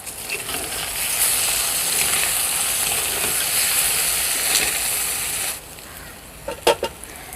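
Green plantain pieces dusted with chili powder are stirred in a frying pan, a steady broad sizzle running for about five seconds before dropping off, then a few sharp scrapes of the spatula near the end.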